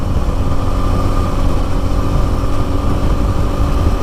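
A 2024 Bajaj Pulsar N250 motorcycle accelerates in fifth gear on a highway, its engine droning steadily and loudly throughout with wind rush, no talk.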